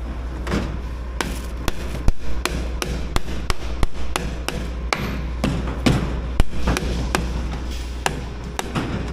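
A hammer strikes a plugged concrete pump hose at the reducer during a concrete pour, many loud irregular thuds and clanks over a constant low machinery rumble.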